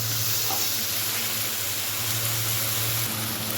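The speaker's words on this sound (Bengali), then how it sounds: "পেঁয়াজ ভাজতে আমার খুব বিরক্তি লাগে" Onions fry in a pan for a special khichuri, a continuous soft sizzle and crackle that holds steady throughout with no voices.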